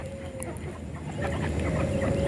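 A Rhode Island Red chicken about two and a half months old clucks in short soft bursts, close by, over a low steady background hum.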